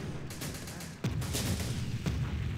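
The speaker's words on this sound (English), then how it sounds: "Come on, boys. Give us a good airstrike." Airstrike of unguided bombs in the war game Syrian Warfare, heard as a dense, continuous rumble of blasts and gunfire with two sharper booms landing about a second apart.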